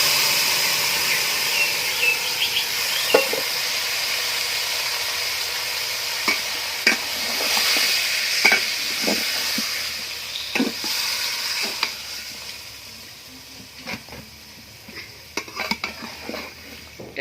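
Pork going into hot oil with crushed garam masala in a pot, then stirred: a steady sizzle broken by sharp metallic clanks and scrapes of a spoon against the pot, fairly close, with no talk.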